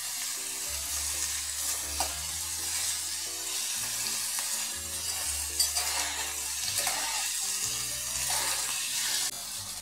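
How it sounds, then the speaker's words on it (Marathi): Diced potato fries in a little oil in a kadhai over a low flame, giving a steady, close sizzle with occasional stirring scrapes and clinks throughout, no talk. "हा असा बारीक गॅसवर बटाटा चांगला फ्राय करून घ्यायचा बरं का."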